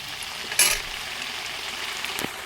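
Ground masala paste for fish curry frying in a pan, a steady soft sizzle throughout with a brief louder spatter early on and faint utensil clinks.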